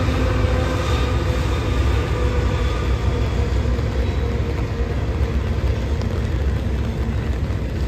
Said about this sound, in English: Around a half hour later, another NS train rolled by, destined for town.